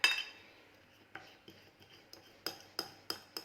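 A fork mashes garlic with a splash of milk in a bowl, giving a series of sharp metallic clinks and taps against the bowl at an irregular, unhurried pace, close and fairly quiet.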